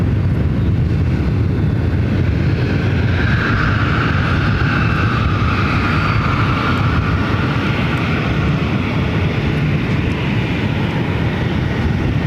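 A one-year-old Boeing 737 MAX 8 airliner at Ontario airport, California, gives a steady, loud broadband jet roar that holds evenly throughout, with no talk over it.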